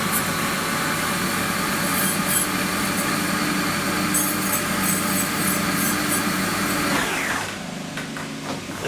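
Sandpaper working the bevels of a large machined metal bevel wheel, a steady loud rasping rub under a motor whine that holds for about seven seconds, then drops away abruptly.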